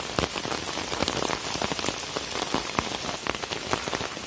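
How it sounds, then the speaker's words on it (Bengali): Heavy rain pours down in a village by a canal, a dense and steady patter of drops striking surfaces close by with no break. "মুষলধারে বৃষ্টি হচ্ছে।"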